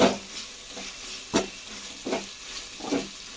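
Tomatoes frying in oil for a tomato chutney, with a soft sizzle beneath several distinct scraping stirs at an irregular pace, close and fairly quiet.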